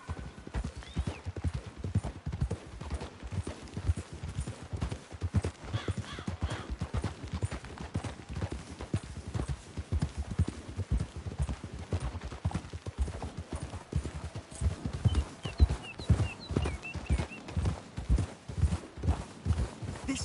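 Horse hooves clip-clop in a steady, close rhythm throughout in the video game Red Dead Redemption II, with a faint horse snort or whinny now and then.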